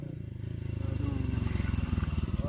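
Small motorcycle engine idling and revving up, a steady pulsing putter that rises in pitch and loudness over a couple of seconds, close by.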